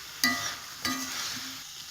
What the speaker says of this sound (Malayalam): അതുവരെ നമുക്കിങ്ങനെ ഇളക്കി കൊടുക്കാം